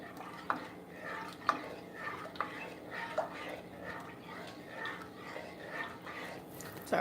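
A large spoon stirs butterscotch-cinnamon pie filling in a pot, making soft rhythmic swishing strokes with occasional faint taps against the side, quiet and close.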